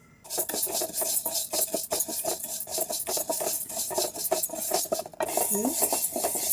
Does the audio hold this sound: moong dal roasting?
yes